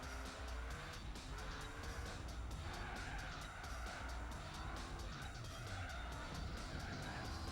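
A Saleen S7 race car in Gran Turismo 4 skids as it slides near the edge of control, with steady engine drone and repeated tire squeals wavering throughout at a moderate distance.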